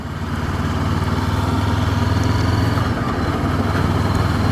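A 2016 Honda CB500F motorcycle engine pulls steadily while overtaking a caravan on the road, a loud, close, continuous drone with no talking.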